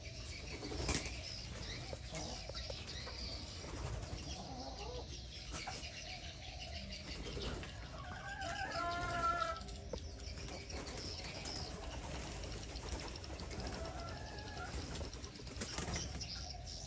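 A Malaysian spotted dove moves and flaps its wings close by in a cage, with repeated bursts of wingbeats over a steady background hum and occasional faint coos.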